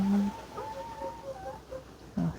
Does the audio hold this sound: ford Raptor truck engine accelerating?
no